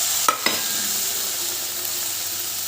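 Boiled chicken added to hot oil in a wok: two quick knocks, then a continuous close sizzle.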